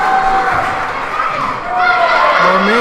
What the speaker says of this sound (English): Crowd trying to get the defense back in this one.